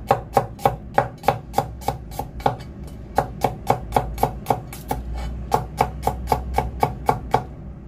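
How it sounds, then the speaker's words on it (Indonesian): Garlic being thinly sliced with a knife on a cutting board while preparing a stir-fried tofu and green chili dish, making a steady run of about twenty quick, crisp taps close by, with no talking. "Bawang putih diiris-iris tipis."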